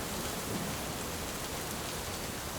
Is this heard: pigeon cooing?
no